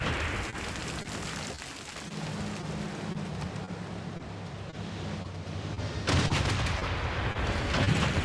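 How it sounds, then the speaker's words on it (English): Battleships bombard a city in the strategy game Civilization VI, heavy booming gunfire rumbling under a steady hum of game ambience, with a louder burst near the end. "I'm going to just start bombarding Ankara."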